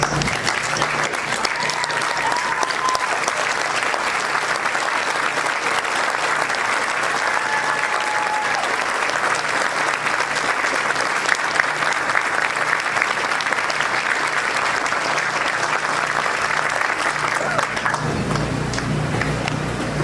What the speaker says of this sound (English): Will you please stand and join me in giving them a round of applause?